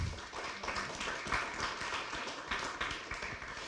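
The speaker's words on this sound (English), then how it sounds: "Again, please, a round of applause for the new speakers." A conference audience applauds the new speakers with a steady patter of many hands that holds for several seconds and slowly thins, heard from within the room.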